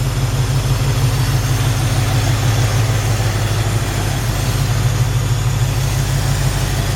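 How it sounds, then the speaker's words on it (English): A 1956 Chevy 3100 pickup engine idles steadily with the hood open, a close, loud, even low rumble that runs unbroken throughout with no talking. "Really nice sounding engine."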